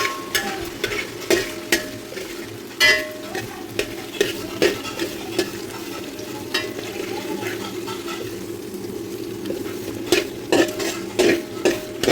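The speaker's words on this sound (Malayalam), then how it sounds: "ഇനിയിപ്പം ഇത് നന്നായിട്ടൊന്ന് വാടി വരണം അപ്പോൾ അതിന് വേണ്ടിയിട്ട് നന്നായിട്ടൊന്ന് മിക്സ് ചെയ്ത് കൊടുക്കുക" A curry with chopped bilimbi is stirred and fried in a pan: a steady sizzle runs throughout, broken by repeated clicks and scrapes of a utensil against the pan. No one speaks.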